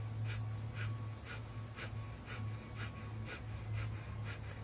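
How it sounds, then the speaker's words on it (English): Breath of fire breathing exercise: about ten rapid, evenly spaced forceful exhalations through the nose, rhythmic and close, over a steady low hum. "We'll do 1 minute breath of fire."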